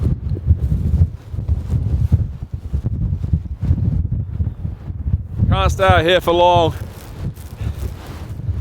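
Strong gusts buffet a tent camp in a blizzard with sideways snow and ice, a steady low roar of wind rumbling throughout, while someone talks over it and briefly calls out.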